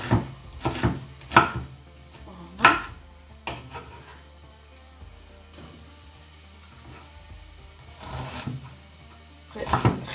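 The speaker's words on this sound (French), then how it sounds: "c'est vite fait à couper les oignons" Onions chopped in a kitchen appliance on a low speed setting for tomato courgettes, a few sharp thumping pulses over a steady low motor hum, close by, with quieter stretches between bursts and no speech.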